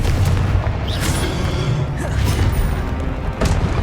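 Blasts from the Confringo fire spell boom loudly during play in Hogwarts Legacy. Dense, rumbling explosions and crackling effects fill the space continuously, with a few sharper bursts standing out.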